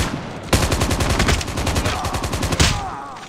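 Rapid automatic gunfire from the mobile shooter Call of Duty Mobile, a loud, evenly spaced burst of shots running about two seconds before it stops abruptly, as when a magazine runs dry.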